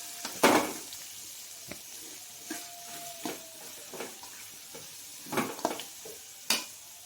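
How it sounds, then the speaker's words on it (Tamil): Sliced onions sautéing with fried dried turkey berries in hot oil, a soft continuous sizzle broken by repeated close scraping strokes of a spoon against the pan. "சுண்டை வத்தல் நல்லா பொரிஞ்சு வந்ததுக்கப்புறம் வெங்காயம் சேர்த்துக்கலாம். வெங்காயம் சேர்த்துட்டு நல்லா மிக்ஸ் பண்ணிக்கலாம்."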